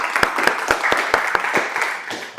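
Applause from an audience at an impromptu public speaking session, a dense wash of many hands clapping with a few sharper individual claps standing out, steady and fairly close for a few seconds.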